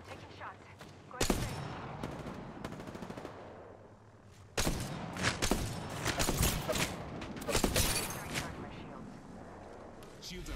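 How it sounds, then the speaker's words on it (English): Video game gunfire at close range: a sharp opening volley, a short lull, then heavy sustained bursts of shots and impacts, with a voice talking underneath. "They spotted me. I'm taking shots."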